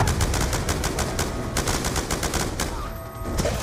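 Rapid automatic gunfire in Call of Duty Black Ops 2 during a Strike Force mission, dense bursts of loud shots rattling almost continuously, with a brief lull near the end before firing resumes.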